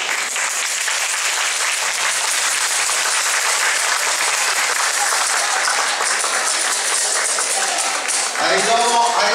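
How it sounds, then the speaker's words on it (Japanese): Loud, sustained applause from a large crowd at a yosakoi and eisa dance festival in Kasukabe, dense clapping throughout, with a brief voice rising near the end. "今一度大きな大きな拍手をお送りください"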